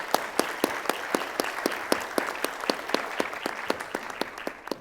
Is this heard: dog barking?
no